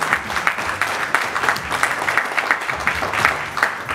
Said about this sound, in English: Give yourself a round of applause tonight